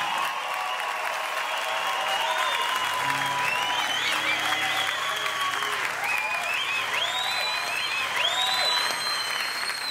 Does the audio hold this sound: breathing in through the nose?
no